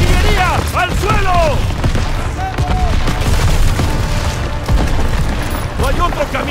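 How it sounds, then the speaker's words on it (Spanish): Heavy artillery barrage in the WW2 shooter Call of Duty WW2: continuous loud booming explosions and rumbling blasts fill the scene, with shouted voices and battlefield chatter over the top. "¡Descarga la artillería!"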